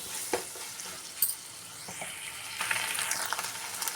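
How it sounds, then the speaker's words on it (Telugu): Ginger garlic paste sizzles in a pan with a steady hiss, broken by a few sharp stirring scrapes and ticks, and the frying grows a little louder toward the end. "ఇందులోని పచ్చివాసన పోయే వరకు దీన్ని కాసేపు ఫ్రై చేసేస్తాం."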